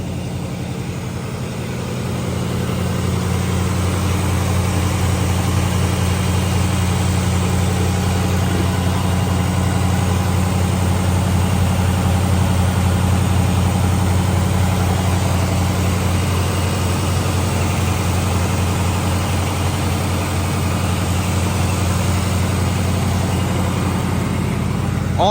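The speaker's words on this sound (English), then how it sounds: "Oh, you hear that 390 V8? Sounds great." A 1960 Cadillac Coupe DeVille with its 390 V8 idling, a steady low rumble with a smooth even hum that holds constant for the whole stretch, close by and with no talking.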